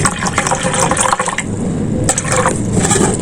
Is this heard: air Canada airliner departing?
no